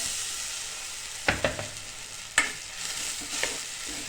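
Blended yogurt mixture for kadhi cooking in a hot pan, a quiet steady sizzle with a few distinct scrapes and knocks of the spoon as it is stirred; no voices.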